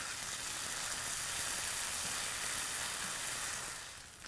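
Onions sizzling steadily in a pan with A1 peppercorn sauce, a dense close hiss that holds constant and eases slightly at the end, with no talking.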